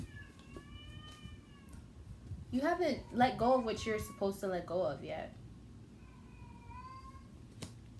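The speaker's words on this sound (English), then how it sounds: "it's the cat, I swear" Cat meowing in faint, drawn-out tonal cries at the start and again near the end, with a person talking loudly in between.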